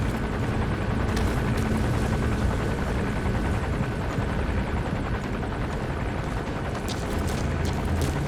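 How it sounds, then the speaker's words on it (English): An arms dealer's helicopter patrols overhead in Metal Gear Solid V, its dense rotor roar filling the scene steadily and loudly throughout, with no voices. "Looks like the arms dealer's chopper is gonna patrol for the security forces"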